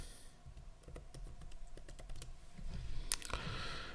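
Quiet, close typing on a computer keyboard, with irregular clicks of individual keys that grow busier toward the end.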